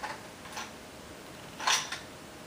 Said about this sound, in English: You'll pull the bolt to the rear.